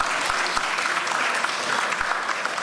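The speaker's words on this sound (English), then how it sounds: "give them a round of applause" An audience applauds a performing group at a Swadeshi dance competition, with steady dense clapping that fills the whole stretch at an even, moderately loud level.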